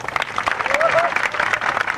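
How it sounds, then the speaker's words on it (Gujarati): Steady, dense applause from a crowd fills the whole stretch, with a faint voice rising briefly above the clapping. "અમારે વિક્રમ કાકા માટે જોરદાર તાળીઓ થઈ જાય"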